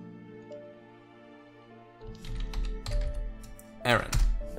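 Keys clatter on a keyboard while a name badge is written in a video game, a quiet musical backdrop giving way to a quick run of light taps growing denser and louder toward the end.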